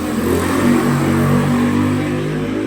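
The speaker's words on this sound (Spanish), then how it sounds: "pasó una moto" A motorcycle passing close by in the street in Mexico, its engine droning and revving steadily and loudly for a few seconds.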